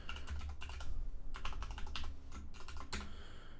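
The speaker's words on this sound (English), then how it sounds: "type in my password" Quick clusters of keystrokes on a computer keyboard as a password goes in, close and clear, with brief pauses between bursts of typing and no talking.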